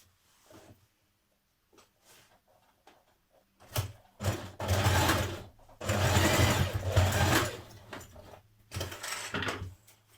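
A sewing machine stitches a skirt waistband in several runs, with quiet handling noises first, then loud steady whirring bursts of stitching with short pauses between them, close up.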